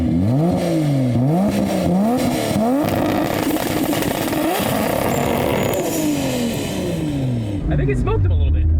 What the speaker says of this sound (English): so let's test the anti-lag here